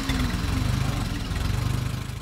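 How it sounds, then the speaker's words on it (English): A model 450 four-wheel-drive tractor, built in Plymouth, Ohio, idles steadily nearby, its low rumbling engine pulsing evenly throughout with no other sounds. "This tractor right here belongs to my son-in-law, Chad Myers."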